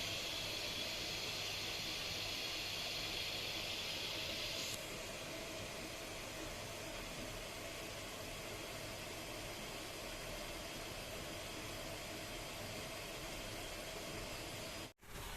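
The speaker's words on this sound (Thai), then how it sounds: "อันนี้คือเสียงของปั๊มที่กำลังทำงานอยู่นะครับ" A household water pump runs with a steady mechanical hum and hiss, with a high whine that cuts off partway through as the system fills and a brief thump near the end.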